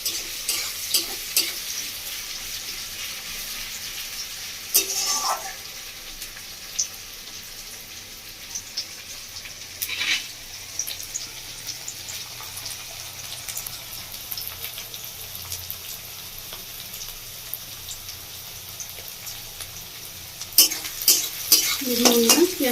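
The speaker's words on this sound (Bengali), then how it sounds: "একটু ভালো করে ভেজে নেব তেলের মধ্যে।" Chopped onion fries in oil in a pan for a fish-egg fritter snack, with a steady close sizzle and occasional scrapes of stirring throughout.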